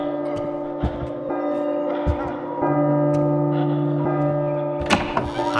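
A bell chimes in the horror video game P.T., sustained ringing tones holding steadily through the passage, with a few dull thumps and faint background noise around them.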